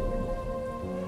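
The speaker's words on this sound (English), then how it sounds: "Oh, not another storm." Steady rain hisses and patters in a Stranded Deep video game storm, with a low thunder rumble beneath, loud and unbroken for a brief moment.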